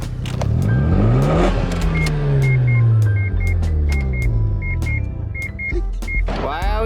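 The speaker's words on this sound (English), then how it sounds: "Gotta rev it to turn it off." A JDM car's engine revs up and then falls back to a steady rumble, loud and close, with repeated short electronic beeps and chimes sounding over it and no talking.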